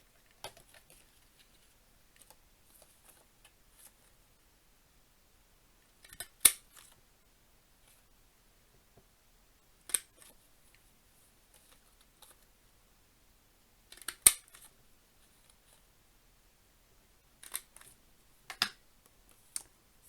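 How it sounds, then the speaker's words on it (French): A handheld border punch cutting through paper for a bookmark edge, heard as sparse sharp clicks and crunchy snips separated by quiet gaps in an otherwise silent room. "vous allez prendre votre perforatrice de bordure"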